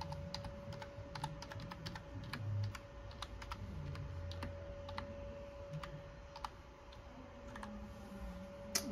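Password typed on a computer keyboard during an Ubuntu 22 installation: a quick irregular run of light key clicks, close and fairly quiet over a faint steady background hum, no voices.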